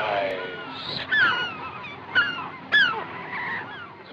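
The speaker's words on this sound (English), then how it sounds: "The birds! He rises!" Birds calling in a scene from a whale hunt, a few loud honking, goose-like cries rising over a busy background.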